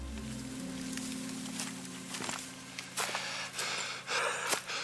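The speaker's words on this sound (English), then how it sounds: "that's some heavy, heavy breathing" Heavy, ragged breathing from an approaching figure in the fantasy game Pillars of Eternity, several loud gasping, snorting breaths in the second half over a steady low ambient drone, with no talk.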